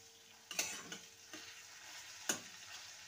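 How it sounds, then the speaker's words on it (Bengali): Spices with Kashmiri chilli powder and tomato being stir-fried in a pan for a Bengali mourola fish curry with potato and brinjal: a faint low sizzle with a few soft scraping stirs and clicks of the spatula. "ভালো করে সমস্ত কিছু কষিয়ে নেব।"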